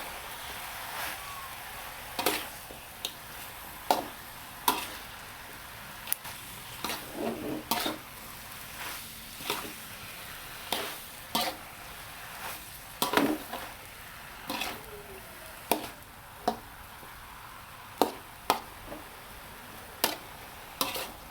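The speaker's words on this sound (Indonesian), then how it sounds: "ini sambil kita mengaduk supaya bercampur bumbu dengan daun pakisnya ya" Fern leaves tossed with spices in a pan are stirred in a steady run of sharp scraping clicks over a low sizzle, each stroke distinct and close.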